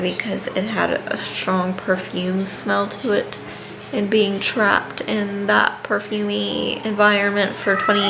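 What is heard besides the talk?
None of the usual background noises is heard.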